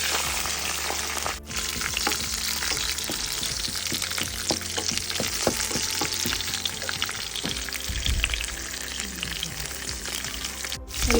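Vigorous sizzling and crackling as chillies, lentils, curry leaves and chopped coconut are tempered in hot oil for carrot poriyal, a dense continuous fry with small pops and stirring scrapes throughout, no talk.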